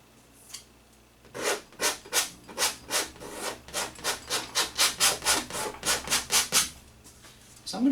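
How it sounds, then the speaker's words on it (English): A painting knife scrapes excess oil paint off a canvas, about twenty rhythmic rasping strokes in quick succession, close and fairly loud, with no talking. "Scrape off any excess paint."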